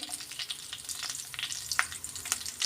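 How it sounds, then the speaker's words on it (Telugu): Curry leaves, mustard seeds and crushed raw garlic frying in hot oil in an Indian kitchen while mango pickle is made, giving a steady close sizzle with scattered sharp pops and crackles, with no talking. "వీటిని వీటినన్నిటినీ ఒక నిమిషం పాటు బాగా వేయించుకుందాము ఈ వెల్లుల్లి అనేది బాగా వేగాలండి"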